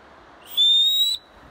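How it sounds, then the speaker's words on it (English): A whistle blown once on a rocky trail in bear country, a single loud, shrill, steady blast lasting about half a second, close and alone against quiet outdoor surroundings. "I got a whistle."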